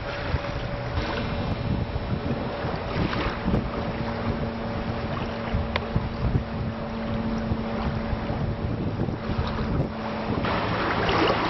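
A sailboat under way in Desolation Sound, with steady wind buffeting the microphone and water rushing along the hull, a continuous roaring wash with no voices.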